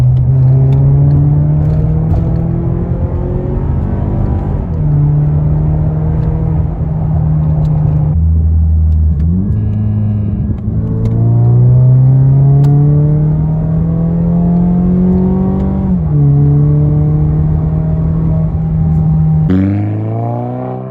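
A 2015 Mazda 6 with a custom straight-pipe single-exit exhaust pulls hard through several gears. Each rising engine note climbs loud and close, with brief dips between shifts and a final rev at the end.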